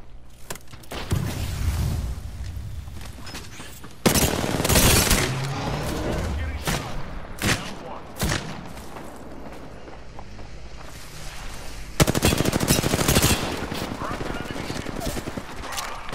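Gunfire in the battle royale video game Apex Legends, loud repeated bursts of weapon fire and impacts in several clusters amid game noise, with a player talking over it.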